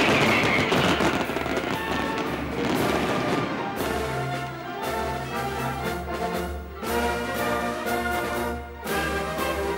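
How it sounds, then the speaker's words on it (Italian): Fireworks go off at the San Sebastiano festival, a dense, continuous crackle of bursts and pops over a rumbling background, loud and sustained for the whole stretch. "poi i fuochi d'artificio e le urla di acclamazione dei devoti"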